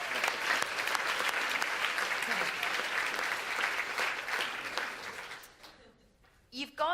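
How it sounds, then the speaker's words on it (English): Audience applauding Paul Ring, a dense sustained burst of clapping from a crowd that fades out after about five seconds, followed by faint voices. "Give him a round of applause for that."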